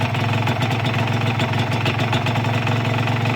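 A Honda NSR150 two-stroke motorcycle engine runs steadily and loud close by, a buzzing, rattly drone that holds an even pitch throughout with no talk.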